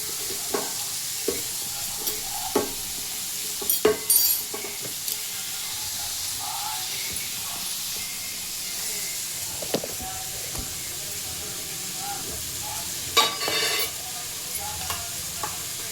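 Chopped onions sizzle in hot oil in a pan while a spoon stirs them, a steady frying hiss broken by occasional scrapes and clinks, close and alone without talk.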